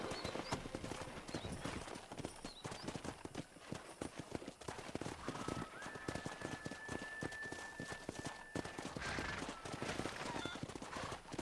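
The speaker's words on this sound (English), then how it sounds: "there's a pack of wild horses nearby" Rapid clip-clopping hooves of a pack of wild horses running in Red Dead Redemption, with a horse whinnying, plus a faint voice and a steady tone in the background.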